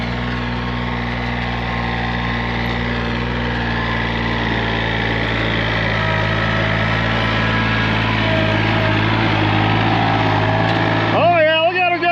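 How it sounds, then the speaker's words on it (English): A small farm tractor drives up over a dam during a field tile drainage job, its engine a loud, steady, close drone that holds an even pitch throughout, with a brief rising whine near the end. "let's see if the little tractor can do the same"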